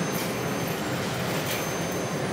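Small coin-operated model train set running at a public play attraction in Munich, a steady continuous rumble and rolling hum with faint clatter, fairly close and unbroken, with no talking.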